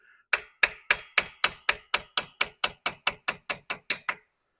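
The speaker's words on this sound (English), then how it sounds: "we'll just try and hammer that pin through with the screw there" Sixteen sharp metallic hammer strikes drive a pin through a clutch, ringing out in a steady, even rhythm, close and clear, then stop.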